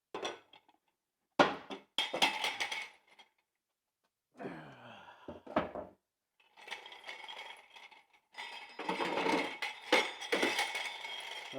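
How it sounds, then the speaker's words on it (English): A heavy transmission jack with a claw head is pumped by foot under a Citroën C5, giving bursts of metallic clanks and rattles separated by brief pauses, fairly close and without talk. "This is a transmission jack. It's a claw. You pump it with your feet, it lifts up."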